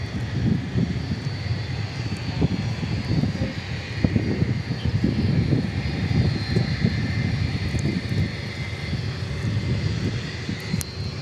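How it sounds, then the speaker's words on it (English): Aircraft engine roar at Dallas Fort Worth airport, with a heavy jet such as a 777 cargo plane nearby, gives a steady, loud rumble and broadband hiss that holds for the whole stretch, with no voices over it. "Eva Air Cargo's already ready to taxi out, Kevin."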